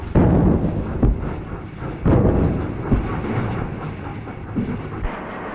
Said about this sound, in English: the newspaper train starts just on time